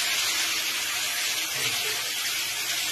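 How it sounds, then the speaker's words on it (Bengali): Washed, chopped spinach hitting a hot pan of cooked-down tomato and spice masala gives a loud, steady steam hiss with a sizzle that holds broadband and unbroken throughout. "এর মধ্যে আমি ওই ধোয়া কুচনো পালং শাকগুলো দিয়ে দিলাম।"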